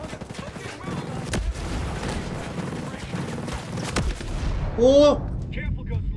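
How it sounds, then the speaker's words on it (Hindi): Grenade blasts in the video game Ghost Recon Breakpoint, heavy booming bursts and gunfire rumbling continuously at close range, with a louder blast near the end as a man exclaims. "भाई भयंकर ग्रेनेड कैसे फटा मेरे ही पास"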